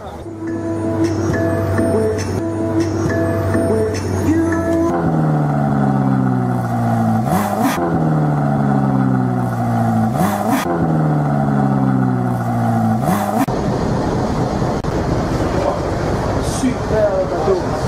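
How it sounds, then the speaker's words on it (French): A Ferrari engine revs and accelerates in repeated rising sweeps, loud and close, each climb ending in a sharp shift before the next surge, with a steady rumble between pulls. "Je vous emmène faire un tour de Ferrari."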